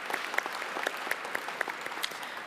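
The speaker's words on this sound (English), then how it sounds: "Yeah, we can clap for that." Audience applause in a large hall at an annual church conference, a brief steady burst of many hands clapping at moderate volume with no talk over it.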